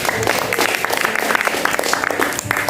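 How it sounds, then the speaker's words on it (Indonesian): Audience clapping for God at an Easter church retreat, a dense burst of many hands applauding continuously for a few seconds at moderate loudness. "Tepuk tangan buat Tuhan"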